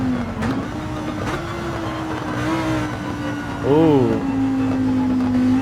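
A McLaren 650S GT3 race car in Gran Turismo 7 holds a steady high engine drone through a race, then dips and swoops in pitch around a downshift before settling again, while a voice briefly exclaims.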